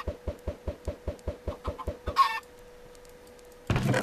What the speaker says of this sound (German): Siehst du, zwei Hühner.